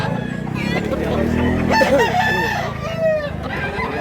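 A rooster crows at a chicken seller's in Mantalungon, Cebu, one loud, close call rising and wavering over a few seconds amid clucking and a low background murmur.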